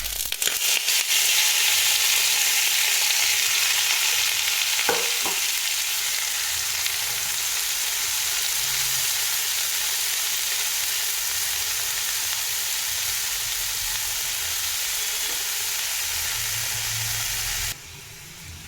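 Loud, steady sizzling and hissing of red amaranth greens frying in a hot pan, continuous for a long stretch, with a couple of brief clinks near the middle.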